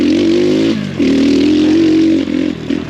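Small X Pro Storm 150 DLX dual sport motorcycle engine, still being broken in, running steadily at moderate revs on a trail ride, with a brief dip and pickup in throttle; loud and close, with no talk.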